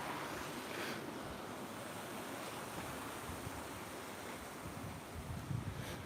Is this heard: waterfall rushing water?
yes